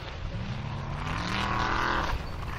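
An Icelandic Formula Offroad car's engine on a hill climb at Stapafell, a loud, sustained roar rising in pitch as it revs hard, then dropping off sharply as the throttle is released near the end.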